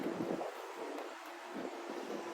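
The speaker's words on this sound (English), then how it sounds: "it is breezy out here" Breezy wind blowing outdoors beside a shed, a steady low rumble buffeting the microphone throughout, with no one speaking.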